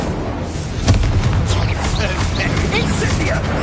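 Fire spells, Confringo and Incendio, crackle and burst in Hogwarts Legacy, a dense, loud blaze of fiery whooshing and popping mixed with combat noise and a voice calling out.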